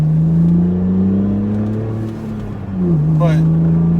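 A 17-year-old BMW Z4 with 121,000 miles hums steadily along a road on a trip toward Pittsburgh, its engine tone dipping and rising as it shifts, with a voice speaking over the drive.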